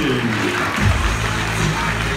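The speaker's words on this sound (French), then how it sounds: "Hop là applaudit très très fort, s'il vous plaît." A circus crowd at a French bike stunt show claps loudly for a couple of seconds, the applause blending with a voice and a steady musical drone.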